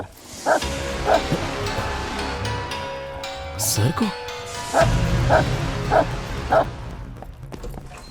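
A dog barks repeatedly in short bursts, fairly close, with a person speaking over some of the barks.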